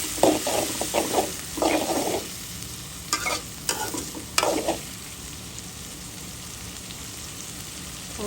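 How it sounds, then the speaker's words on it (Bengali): Ginger garlic paste frying in oil alongside fish, onion and chili, with a steady sizzle broken by several bursts of spoon-scraping stirring in the pan; no voices. "আদা রসুনের পেস্টটা দিয়ে দিলাম,"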